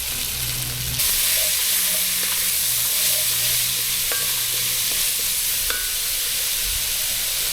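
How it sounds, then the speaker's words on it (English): Diced leeks, yellow onion and celery sweating in a pot, a constant close sizzle and hiss with occasional spoon scrapes and light taps against the pot, no voices. "So we're just going to keep stirring until everything is nice and translucent"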